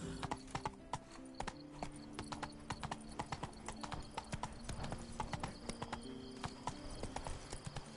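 Horse hooves clip-clop quickly and steadily in The Witcher 3: Blood and Wine, a galloping rhythm close by under faint ambient game sound, with an occasional whinny-like tone.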